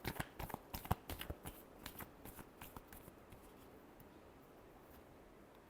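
Tarot cards are shuffled in a quick run of crisp riffling snaps, dense at first and then thinning out into sparse soft flicks, close and quiet.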